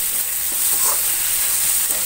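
Boiled taro stolons stirred into fried onion and tomato in hot oil, a loud, continuous sizzle with faint scraping, heard close up and without any voices.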